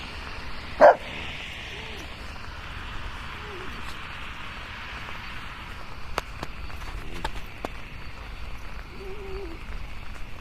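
A dog out on a walk barks at another dog: one loud, close bark near the start, then a few faint whines or yips over steady outdoor background noise.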